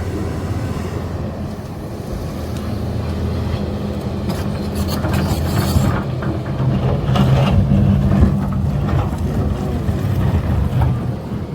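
The 6WG1 diesel engine of a 50-ton Sany SY500H excavator rumbles steadily at idle with no load, a low, continuous drone and faint mechanical clatter, no voices over it.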